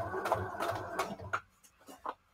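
A sewing machine straight-stitches signatures into a junk journal, a quick burst of mechanical whirring and needle clatter that stops, followed by a few scattered small handling sounds.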